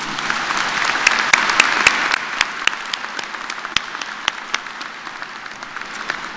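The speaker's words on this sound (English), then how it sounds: "Would you join me in giving a round of applause?" Audience at a graduate school spring commencement ceremony breaks into sustained applause, a dense wash of clapping from a large crowd with sharper individual claps standing out, steady throughout and slowly easing.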